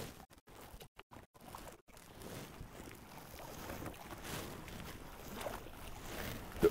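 A rowboat moves across Dudipatsar Lake with soft water swishes and splashes under gusty wind buffeting, a few sharp handling knocks at the start, faint and close.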